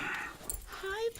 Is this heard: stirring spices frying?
no